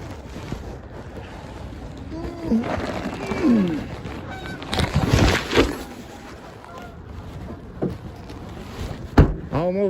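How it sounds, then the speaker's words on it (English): A flock of geese honks repeatedly while flying overhead outdoors, the calls rising loud and close in bursts then fading, with wind buffeting the microphone throughout. "Almost got hit in the head by a bunch of geese flying over."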